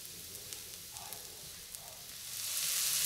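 Sate beef mixture with annatto and paprika powder sizzles in a pan as it is stirred, with a steady close frying hiss and faint scraping that swells louder toward the end.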